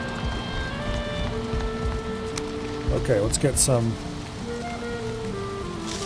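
Steady rainfall in the Valheim survival game, a soft continuous patter beneath someone talking, with tonal in-game building sounds chiming through.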